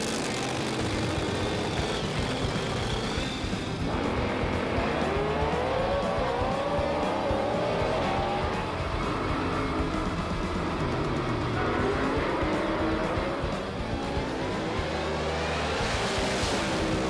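Pro Mod drag race cars at the IHRA North American Nationals produce a loud, continuous engine roar with broadband noise that swells and recedes over several seconds, heard from the trackside crowd area.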